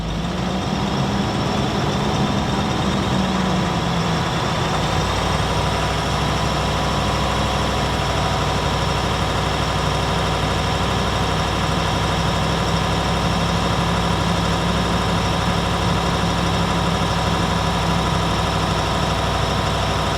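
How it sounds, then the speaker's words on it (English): A Range Rover L322 TDV8 diesel engine runs steadily, its pitch rising a little early on as the revs increase, then holding at a constant droning hum. "I'll just take the revs up slightly."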